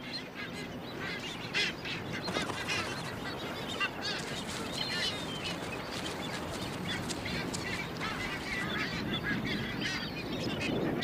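Frigatebirds at a nesting colony on Ascension Island give a dense, continuous chorus of honking, chattering calls, with many birds overlapping at moderate distance.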